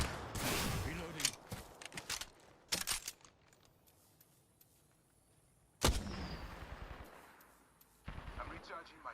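Video game gunfire in bursts: loud close shots at the start, a sharp blast midway, then more volleys near the end, separated by quieter stretches with some voices.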